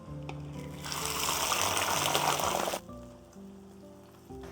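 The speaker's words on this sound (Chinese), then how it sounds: "我们把这个虾放下去放下去煎一下" Shrimp hit hot oil in a pan on a home stove, bursting into a loud crackling sizzle that holds for about two seconds, then drops sharply to a quieter bubbling.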